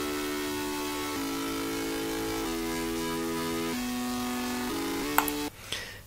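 Layering synthesizer with a slightly distorted, buzzy texture holds steady chords that shift pitch every second or so, then cuts off into a short burst of noise.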